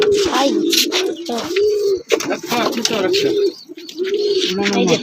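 Pigeons coo in repeated soft rolling phrases close by, several calls one after another with brief pauses and some wing or handling noise between them.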